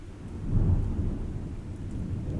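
A heavy rainstorm with strong wind: a continuous deep rumble of thunder rolls under a steady wash of rain, dense and enveloping, with no voices.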